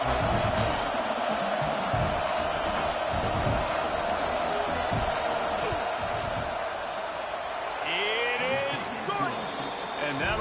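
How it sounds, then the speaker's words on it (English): Stadium crowd in a college football video game roars as the field goal unit lines up on fourth down; a constant loud wall of crowd noise, with a commentator's voice over it and a brief dip near the end. "This crowd trying to do its part to get inside the kicker's head."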